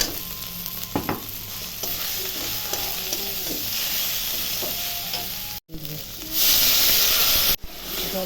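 Ground spices with turmeric and salt being sautéed and stirred in a pan while cooking chicken do pyaza, a steady close sizzle with scraping stirs, cutting out briefly before a louder hissing burst of steam.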